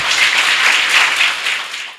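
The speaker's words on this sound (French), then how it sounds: "Si vous êtes prêts à le recevoir, applaudissez très fort, s'il vous plaît." An audience at a teachers' day event in a hall applauds loudly to welcome the first panelist, a dense burst of clapping that fades away at the end.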